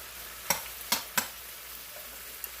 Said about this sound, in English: this stir-fried cabbage is chop them, put them in hot oil